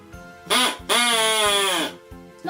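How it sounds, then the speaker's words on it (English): Two loud, nasal duck-call whistles blown close up, one short quack followed by a longer drawn-out honk, with brief quiet gaps. "We've got 2 duck whistles."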